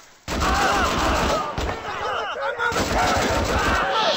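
Sustained automatic gunfire in the Mud and Blood Recon video game, dense and loud throughout with a brief lull in the middle.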